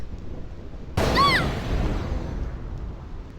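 Lightning cracks once near the lightning rod towers in Final Fantasy X, a sharp bright strike followed by a rolling rumble that fades over a couple of seconds.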